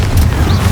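Confringo blasting spell explosion in Hogwarts Legacy on PS5: a short, deep rumbling boom with a roaring low-end burst that fills the whole moment.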